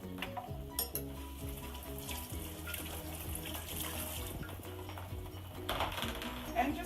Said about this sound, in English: Cucumbers, we want to make sure we just wash everything